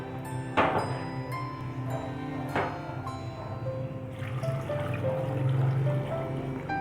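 Water pours and trickles steadily into a pot of cassava, with a couple of sharp clanks near the start and a gurgling rise toward the end.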